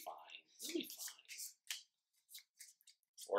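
A deck of game cards is shuffled during a tabletop roleplaying session of Zombie World, giving quick papery riffles and flicks near the mic, with people talking in between.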